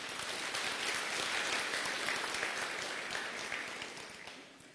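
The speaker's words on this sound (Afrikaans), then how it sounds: "Kom ons gee vir 'n lekker hande klap toe." A church congregation claps warmly for a newly married couple: dense, continuous applause from many hands that holds steady and then tapers off toward the end.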